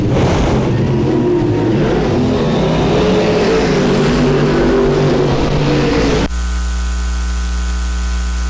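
Race car engines on a racetrack roar loud and steady through a dense, noisy wash as cars come down into a turn, then the sound cuts abruptly to a flat, tonal hum near the end.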